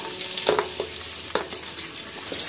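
Chopped onion tips into hot oil with green chillies in a frying pan, a broad steady sizzle with a few sharp stirring scrapes and clinks near the start and middle, close and moderately loud, no talking.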